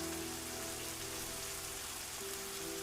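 Heavy rain pours steadily onto the ground in a dense, unbroken hiss, close and loud throughout, with no voices.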